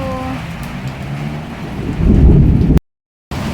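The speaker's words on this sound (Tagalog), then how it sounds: "So, lumakas na yung ulan." Steady heavy rain pours down with low rumbling thunder building toward the end, loud and close, then a brief cut to silence before the downpour resumes.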